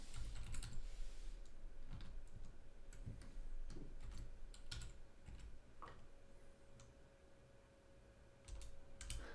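Fingers type commands on a computer keyboard in quiet, irregular bursts of clicking keys, close and soft over a faint steady hum, with no talking.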